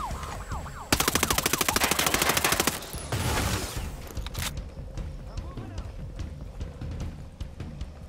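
Rapid bursts of automatic rifle fire crack through a tactical shooter game, Ghost Recon Breakpoint, with a dense sustained burst followed by scattered single shots and distant pops, while a player talks over the action.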